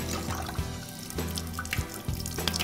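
Water from a kitchen faucet streams steadily while hands are rinsed under it during meatloaf muffin prep. The splashing and trickling run continuously at moderate, close level, with small irregular splashes.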